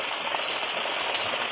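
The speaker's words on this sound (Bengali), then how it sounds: "দেখো আরো জোরে বৃষ্টি নেমে গেছে" Heavy rain falls in a dense, unbroken hiss of drops, steady and fairly loud throughout the short stretch.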